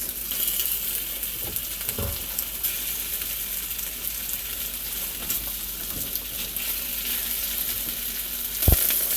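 Chicken thigh pieces for kung pao chicken frying in a pan in batches, a continuous bright sizzle with faint stirring knocks and a sharp clank near the end, no voices.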